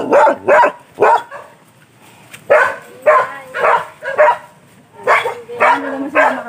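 Dogs bark in a string of loud, close, sharp yaps and woofs, coming in clusters with brief gaps between them, some higher and yelping, heard outdoors on a walk.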